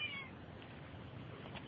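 A cat gives a single brief, faint meow at the very start, followed by quiet room hush.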